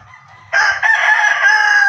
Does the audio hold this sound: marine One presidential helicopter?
no